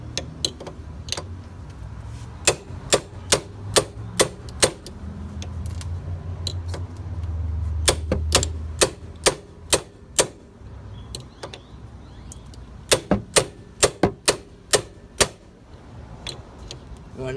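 A hammer strikes a ratchet to tap a brake pin into a Can-Am Outlander or Renegade ATV, sharp metallic clicks in quick bursts of several hits separated by pauses, loud and close over low background noise.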